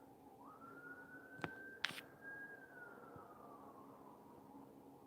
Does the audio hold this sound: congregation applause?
no